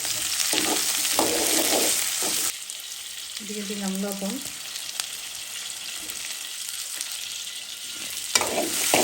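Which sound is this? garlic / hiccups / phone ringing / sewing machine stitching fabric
garlic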